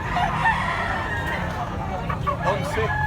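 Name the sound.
rooster crowing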